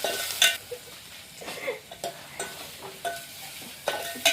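Tomatoes fry with onions and coconut in a pan while being stirred, cooked outdoors in a village field, with a soft steady sizzle broken by repeated scraping stirs.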